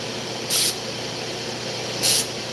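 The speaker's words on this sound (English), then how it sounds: "So I'm just spraying with olive oil" Two short hissing bursts of olive oil spray into a hot pan, about a second and a half apart, over a low steady background hum.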